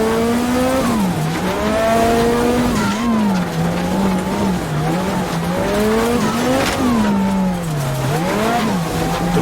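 A Lancia Delta S4 Group B rally car climbing the Transfagarasan mountain road, its engine loud and close, revving up and down through gears with tires squealing through corners, continuous and without talk.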